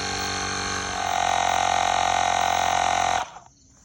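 An iGrid portable tyre inflator, working on a bike tyre that has sat flat for days, runs with a steady electric motor hum and buzz that grows stronger partway through, then cuts off abruptly near the end.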